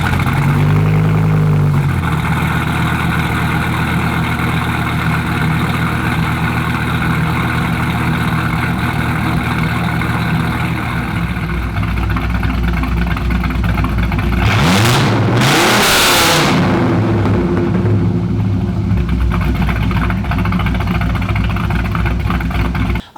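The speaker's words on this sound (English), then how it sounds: "The V10 sound is absolutely amazing" A second-generation Dodge Viper V10 engine idles with a deep burbling growl, then revs sharply and rises to a loud roar before settling back to idle.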